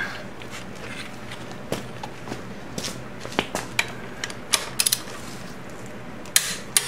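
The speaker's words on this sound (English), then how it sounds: "in the next stage we will go to the final torque of 77 foot-pounds" Torque wrench clicking on the final drive bolts of a 2002 BMW K1200RS, a sparse series of sharp metallic ratchet clicks and taps over quiet workshop background, close to the microphone.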